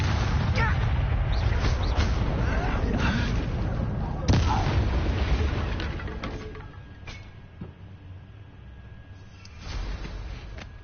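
A Confringo fire blast spell from Hogwarts Legacy erupts in a loud, booming burst, followed by a dense rumbling that slowly fades, with a second swell near the end and some speech-like voices mixed in.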